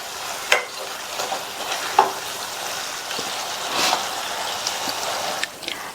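Okra (vendakkai) masala is stirred in a pan, giving a soft, steady sizzle with scraping stir strokes at intervals, moderately close and without any talking.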